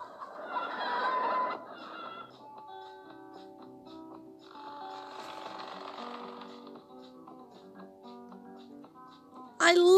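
Chickens cluck in a mobile video game, a cartoonish clucking burst followed by tinkly game music and soft effects, ending with a sharp bright sound, with a voice speaking over it.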